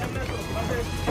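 A passenger boat on Kaptai Lake is pushed off by hand and pulls away, with a steady low rumble and a wash of water noise under people talking nearby.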